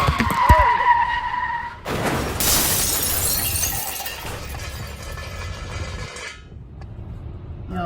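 A truck rolls back and crashes into a car on the highway, a loud crunching impact with shattering glass, then scraping and grinding that fades.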